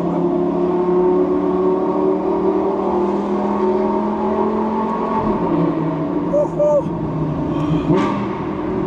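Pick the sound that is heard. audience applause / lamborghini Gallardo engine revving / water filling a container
lamborghini Gallardo engine revving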